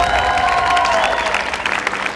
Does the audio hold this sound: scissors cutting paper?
no